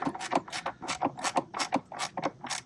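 A ratchet tightens down a car battery hold-down, giving a quick run of close, crisp clicking strokes in a steady back-and-forth rhythm with no talking.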